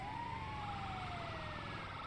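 An ambulance siren wails in the video game GTA V, its falling tone sliding steadily over a constant engine and traffic rumble, loud and close with no talk.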